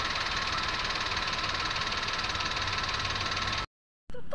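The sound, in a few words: car engine air conditioning compressor running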